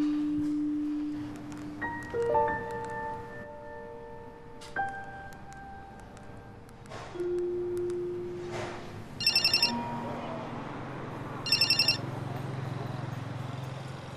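Phone tones sound during a call being placed at home: a few keypad beeps, then two bursts of trilling ring, close and fairly loud against a quiet room.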